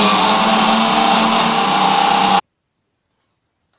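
A kitchen mixer grinder whirs steadily, grinding dried tamarind or mango with a little water in a mixer jar, a loud continuous motor whine that cuts off abruptly into silence.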